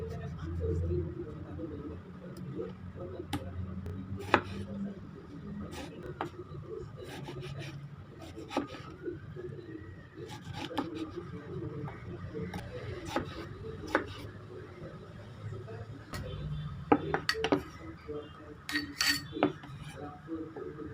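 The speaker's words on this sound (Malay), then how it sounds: "Tomato kita potong dadu." A knife tapping and scraping on a cutting board in irregular bursts, dicing tomatoes, with a voice talking underneath in a kitchen.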